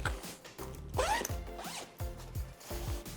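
A zipper runs along a zip pocket on a Tortuga travel backpack, giving several quick ratcheting pulls in close succession, near and clear with no talking.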